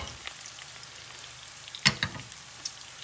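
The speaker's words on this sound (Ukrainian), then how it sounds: "Цибулю розмішуємо отак." Chopped onion in heated oil in a frying pan gives a faint, quiet sizzle, with a couple of sharp clicks from stirring near the middle.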